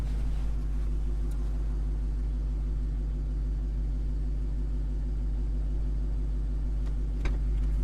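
A 2021 Dodge Charger SRT Hellcat Redeye Widebody idling as it is shifted into drive, giving a steady, deep, rumbling engine drone that stays even and close throughout with no voices.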